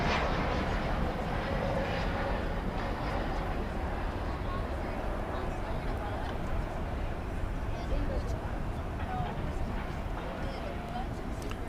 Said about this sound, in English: arriving from Denver. It's a Airbus A320 Neo